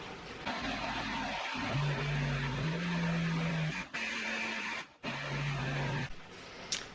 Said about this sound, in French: Je l'ai mis dans mon blender et on va venir mixer tout ça.